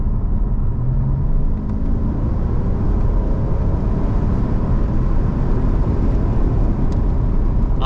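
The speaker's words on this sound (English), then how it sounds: "what the engine sounds like when you put your foot all the way down" A Mercedes CL500 car engine at full throttle drones loudly and steadily, deep rumbling road noise holding constant throughout with no voices.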